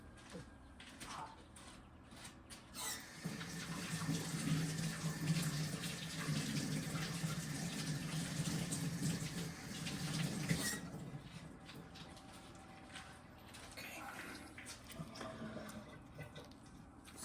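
Running tap water rinses a metal part after cleaning in an ultrasonic cleaner with Purple Power degreaser. A steady splashing flow lasts several seconds and then fades to quieter dripping and handling sounds.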